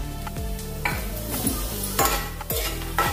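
Chana dal and urad dal roasting in hot oil with cumin and mustard seeds, a close sizzle broken by repeated spoon-stirring scrapes against the pan, plus low tonal humming underneath and no talking.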